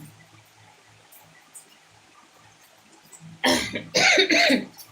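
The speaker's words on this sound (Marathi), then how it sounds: "माझा घस्सा अजूनही चांगला झालेला नाही खोकलाच येत आहे" After a quiet stretch, a person nearby with a sore throat breaks into a loud fit of harsh, repeated coughs.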